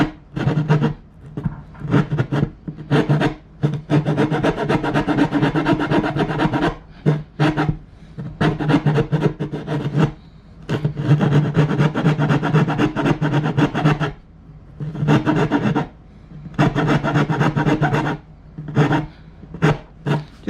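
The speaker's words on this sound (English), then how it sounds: "I'll take a square file and I will square the hole" A square file rasps back and forth inside a drilled hole in plywood, in repeated bursts of strokes separated by short pauses, close up and with no talking.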